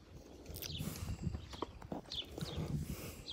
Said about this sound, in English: Bring your horse up here, Dick.